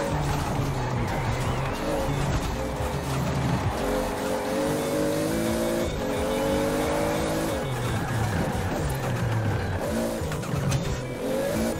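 A Toyota Supra in the Forza racing game revs hard through rising and falling gear changes, its engine and exhaust note loud and continuous with tire squeal along the way.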